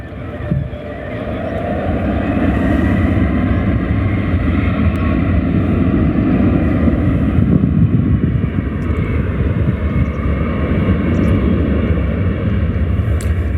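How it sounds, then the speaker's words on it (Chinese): A twin-engine airliner accelerates down the runway for takeoff. Its engines make a loud, continuous roar that builds and holds steady throughout, with some wind buffeting the microphone. "持续给油，持续加速。"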